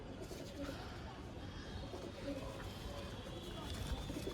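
Pigeons of an old breed coo softly and continuously in a loft or coop, low murmuring calls layered over constant background noise at close range.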